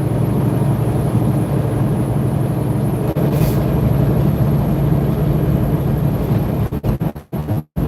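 Steady drone of a truck engine running down grades with gear shifts, a constant loud low-mid hum with a brief break near the end.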